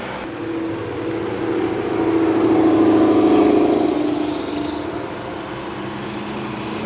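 Lamborghini Super Trofeo race car passing on the track at VIR, its engine tone swelling to a peak and fading again as it goes by, at a moderate distance with no talking.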